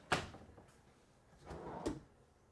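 A quiet wooden drawer in a 2023 Yukon 412DB camper trailer slides and bumps shut twice, a short thud followed later by a rolling slide ending in another knock.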